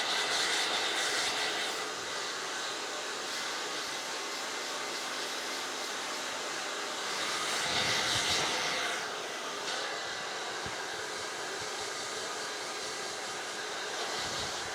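A hair dryer with a focusing nozzle blows a steady, loud airy roar close by while hair is straightened into a sleek blunt bob, the pitch shifting slightly as the airflow moves.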